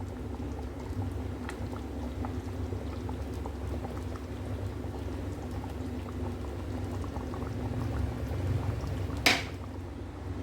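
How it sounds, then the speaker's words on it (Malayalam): Ada pradhaman payasam simmers with a steady low bubbling as condensed milk is poured in, a soft continuous liquid sound with a brief sharp clink near the end. "ഞാനൊരു 400 ml മിൽക്ക് മെയ്ഡ്"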